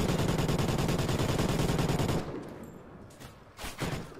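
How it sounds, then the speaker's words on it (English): Rapid, loud gunfire from a video game gun-game match, a dense stream of shots for about two seconds, then quieter scattered bursts and a couple of louder late hits. "Ah, shotgun from behind."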